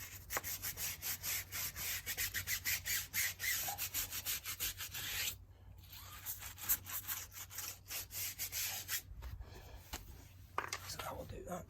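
A stiff bristle brush scrubs the face of a BMW M4 Competition tyre, lifting browning and grime, in a steady run of quick, close rasping strokes with a short pause midway and brief low handling noise near the end.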